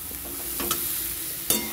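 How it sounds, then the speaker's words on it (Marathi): Chickpeas and other ingredients fry and get stirred in a pan with a steady, soft sizzle, punctuated by a couple of brief clinks and scrapes of the spoon. "हे चांगलं वाफेवर फ्राय करून घ्यायचं"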